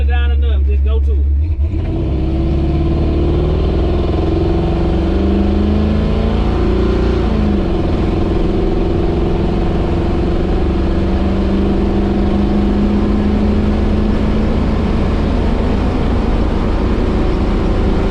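A 1983 Chevy C10 pickup with a small-block 350 V8 drives down an old back road, its engine droning loud and steady throughout with rising revs, while someone talks over the noise.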